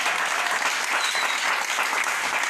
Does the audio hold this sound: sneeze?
no